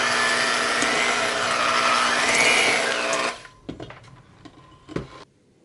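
An electric mixer whirs steadily through cheesecake batter for about three seconds, then stops, leaving a few soft clatters and knocks against the bowl.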